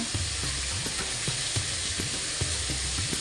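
Ground coriander and cumin powder fry in oil in a home kitchen pan, a steady close sizzle broken by regular scraping and clicking strokes of a spatula stirring the spices.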